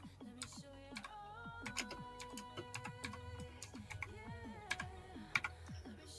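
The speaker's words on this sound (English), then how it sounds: "So let me type in overlay again." Typing on a computer keyboard, a quick irregular run of close, crisp key clicks and taps over a faint background hum, with no one speaking.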